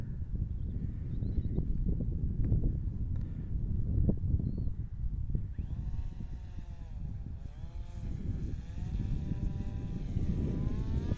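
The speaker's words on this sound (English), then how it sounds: "Okay, we got a better wind, obviously. Little breeze." Wind buffets a microphone outdoors while a flying wing prototype is tested, a steady rumbling gust noise throughout, with a droning whine that wavers up and down in pitch in the second half.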